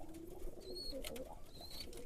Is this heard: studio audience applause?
no